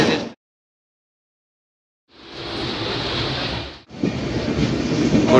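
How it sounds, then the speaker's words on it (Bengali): Moving passenger train, the Dakshineswar Express, heard as a steady broadband rumble after a long silent gap, with a brief dip before the rolling noise resumes and builds, no voices present. "আমাদের ট্রেন এখন জাস্ট কিষানগঞ্জ ক্রস করছে"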